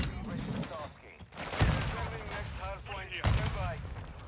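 Dual P890 pistols fired akimbo in a video game, quick bursts of gunfire at close range, heard under someone talking over most of the action.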